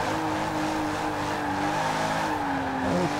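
A car in Forza Horizon 4, with a BMW and a tractor nearby, drives with a steady engine drone while tires squeal and skid, growing louder near the end.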